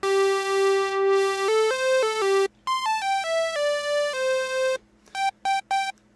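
Saw and square oscillators on a Korg EMX1 synth sound bright, buzzy stepped notes in short sequences, with brief gaps and a few quick stabs near the end, loud and unaccompanied.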